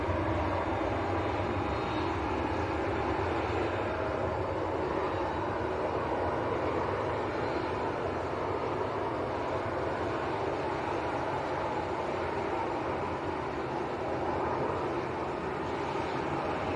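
Aircraft engine starting up on the apron at Leeds Bradford Airport after an engine change, a steady, loud broadband roar and whine that holds evenly throughout without any talk.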